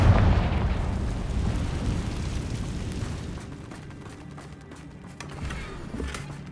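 A Confringo fire spell explodes in the game Hogwarts Legacy, a loud booming burst at the start that rumbles and fades over several seconds, with softer impacts after it.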